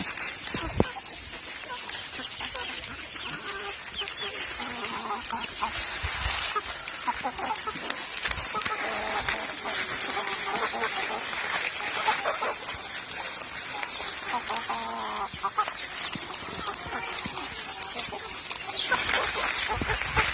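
Chickens and a rooster on a small home poultry farm beside a cowshed cluck intermittently through a steady hiss of outdoor background noise, moderately distant.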